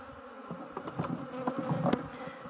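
Honey bees buzzing around an open hive during a colony split, a close, fairly faint droning hum with individual bees flitting by in short swells.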